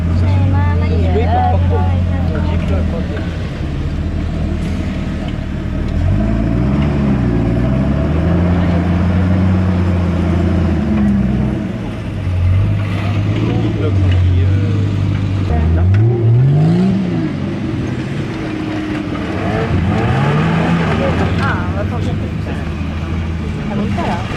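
A Toyota car engine drones loudly and revs up and down several times at an agricultural show, pitch rising and falling in waves, with people talking over it.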